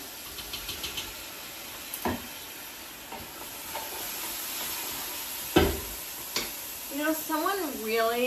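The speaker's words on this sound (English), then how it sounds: "I'm going to add the garlic to the onions." Chopped garlic and onions in a pan for vegetable soup, giving a soft steady sizzle with occasional scraping stirs and utensil knocks, close up, and a voice joins near the end.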